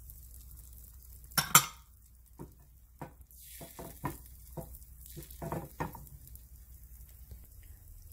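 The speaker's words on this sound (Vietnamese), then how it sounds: "Khi mà dầu nóng rồi đó, Kinh sẽ cho trứng vào chảo nhỏ" Egg poured into hot oil in a small pan, a few sharp metallic clinks giving way to a soft sizzle and scattered utensil taps, close and moderately quiet with no talking.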